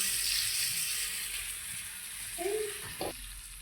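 Spices temper in hot oil for methi with a steady, bright hiss, interrupted by a couple of brief clinks.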